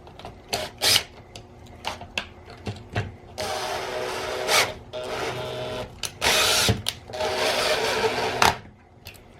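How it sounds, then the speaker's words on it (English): Small bolts threaded by hand into ratcheting toe-clip mounts on a mountainboard, with repeated short clicks and taps and bursts of ratcheting, scraping metal noise, close up, intermittent and fairly loud. "we're just going to get each bolt started in the hole first"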